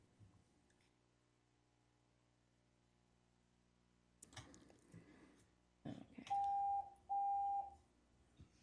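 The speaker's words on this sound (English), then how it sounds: "the phantom beeps are going again" Phantom electronic beeps sound in a quiet city council chamber during a roll call: two sustained, clear tones in a row near the end, after some scattered clicks and handling noises.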